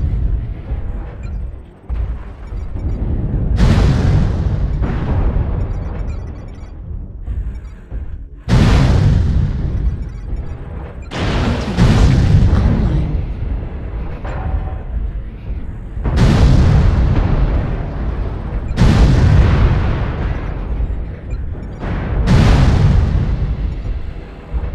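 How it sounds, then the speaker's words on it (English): Artillery strike explosions in a video game land as a series of loud, deep booms, about seven heavy impacts spaced a few seconds apart, each with a rumbling tail, close and dominant. "Artillery strike online."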